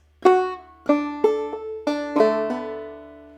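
Closing measure of the A part of Briarpicker Brown on clawhammer banjo: a handful of plucked notes, a skip stroke and a drop-thumb note, the last one left ringing and fading, played close and alone.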